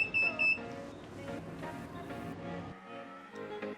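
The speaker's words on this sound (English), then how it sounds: "then it will beep anywhere from 3 to 5 times, which indicates the speed of the system" A short series of electronic beeps comes from an aftermarket power frunk module on a pre-facelift Tesla Model S P85, heard at the start over a quiet room with a soft background hum.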